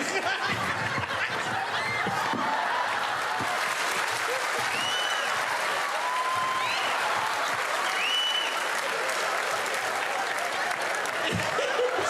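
A theatre audience applauds a contortionist's act, with sustained clapping and scattered chuckles and laughter throughout, heard from within the crowd.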